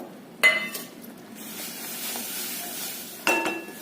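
Roasted fine semolina is stirred into mango pulp and ghee in a pan for mango shira, a soft low sizzle with two sharp clinks of a spoon against the pan near the start and end.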